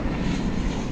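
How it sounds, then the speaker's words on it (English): An Airbus A321 arriving as Flight 777 from Las Vegas produces a loud, dense engine roar over one continuous second, close and unbroken, without speech. "here comes Flight 777 from Las Vegas. It's an Airbus A321."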